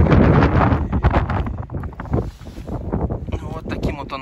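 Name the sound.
wind blowing on the microphone outdoors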